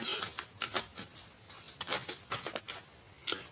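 A Tarot de Marseille deck being cut by hand, giving a quiet run of soft, papery card snaps and riffles in irregular bursts, close and faint, with no voices.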